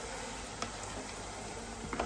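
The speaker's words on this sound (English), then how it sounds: "The reason I'm frying this cauliflower and broccoli make it bit crispy." Cauliflower and broccoli pieces crisping in hot oil in a pan, a steady, close hiss of frying with a couple of faint crackles and clinks, no talking.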